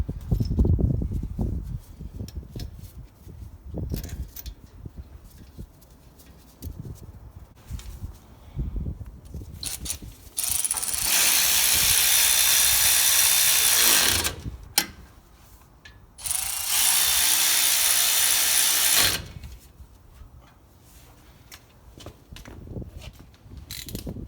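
Ratchet wrench driving in rear brake bolts on a 2004-2015 Nissan Titan, with two long bursts of continuous fast clicking close up, separated by quieter handling noises and clanks.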